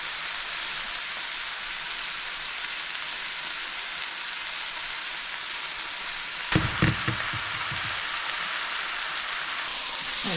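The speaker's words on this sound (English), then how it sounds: "we add the saltfish to the pot, and we're now going to add the callaloo" Saltfish and Jamaican Linstead Market callaloo cook in a pot with a steady, close sizzling hiss, broken near the end by a brief burst of stirring clatter; no one talks.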